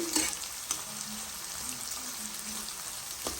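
Capsicum fries in oil for lemon rice with a steady, crackling sizzle, broken by a few sharp stirring scrapes against the pan.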